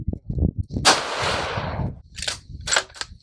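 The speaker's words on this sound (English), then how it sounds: "let's go ahead and shoot 5 rounds at 100 yards." Single sharp crack of a Ruger Generation II Predator rifle in .223 Remington fired outdoors at a 100-yard target, with a long decaying echo, followed by quieter clicks and clatter of handling the bolt.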